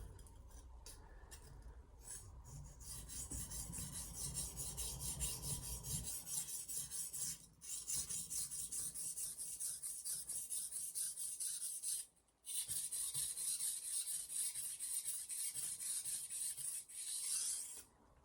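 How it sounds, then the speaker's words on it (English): Masono 10mm knife with a 70-30 bevel being sharpened on a Shapton Pro #320 whetstone: a steady, close gritty rasp of steel across stone, continuous for long stretches with a few brief pauses and no talking. "I'm going to sharpen the left hand side first."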